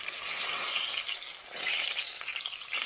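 Chicken frying in sunflower oil on a small cooker at a church, a steady close hissing sizzle with crackling bursts that swell and ease throughout, no voices.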